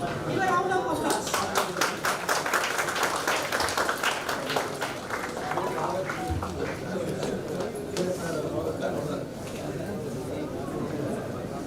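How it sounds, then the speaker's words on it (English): An audience at a national seminar inauguration claps to welcome an arriving guest, a steady round of applause that tapers off as chatter and talk rise over it. "Give a round of applause."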